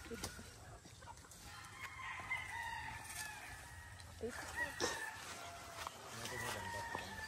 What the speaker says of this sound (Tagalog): ito po yung mga inahin natin